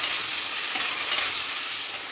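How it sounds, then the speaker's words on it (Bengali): Spiced goat liver sizzles steadily in a hot pan, broken by a few quick scrapes of stirring. "ভাজা হচ্ছে"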